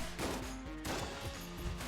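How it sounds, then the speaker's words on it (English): An in-game explosion in Enter the Gungeon, as chests lying about are destroyed: quiet, repeated crashing bursts in fairly quick succession, fairly distant-sounding and low in level. "An explosion."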